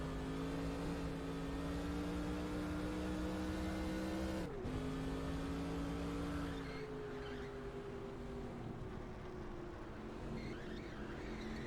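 Race car engine in the NASCAR Racing 2003 video game, a steady loud droning hum held throughout, with pitch climbing slightly, a brief dip near the middle, then settling into a lower, softer tone without any talk.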